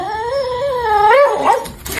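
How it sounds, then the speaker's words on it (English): A fluffy dog whimpers close by, a loud high whine that wavers in pitch and climbs into a yip before trailing off. "Fluffy dog."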